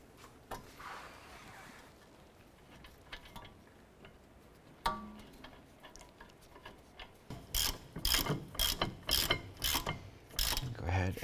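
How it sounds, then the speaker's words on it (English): Ratchet wrench tightening brake caliper bracket bolts on the rear of a 2008-2012 Honda Accord: quiet fumbling and scraping, then a run of sharp rapid clicks from the ratchet, close and fairly loud, with no talk. "Go ahead and snug that bolt down. Let's go ahead and tighten down the upper."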